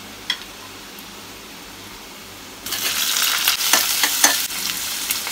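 Quiet kitchen hush, then a sudden burst of sizzling as garlic and ginger hit hot oil in a pan, crackling steadily with a few sharp clinks of stirring.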